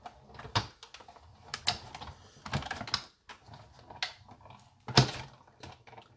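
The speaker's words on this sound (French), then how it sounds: "Moi, je trouve que la Big Shot, elle découpe très très bien sans forcément faire d'aller-retour." Big Shot die-cutting machine pressing paper for a pastel-toned Christmas card, heard as a series of sharp clicks and knocks in irregular bursts, close and fairly quiet, with no voices.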